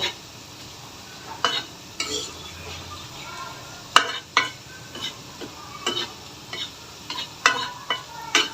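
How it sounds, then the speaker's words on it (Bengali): Flour and potato french fries frying in hot oil with a steady soft sizzle, while a utensil gently stirs them in irregular light clinks and scrapes every second or so. "হালকা হালকাভাবে নেড়ে দিচ্ছি, আর একটু শক্ত করব"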